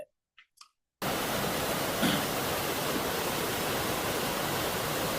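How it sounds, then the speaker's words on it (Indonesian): Large ocean waves crashing, heard as a loud, steady roar of broadband surf noise that begins abruptly after a second of near silence with a few faint clicks and continues unbroken. "Ini ilustrasi ombak besar seperti ini."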